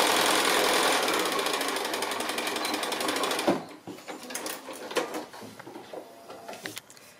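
A sewing machine runs a regular straight stitch with a fast, steady mechanical whir for about three and a half seconds, then stops, leaving scattered soft clicks and handling sounds.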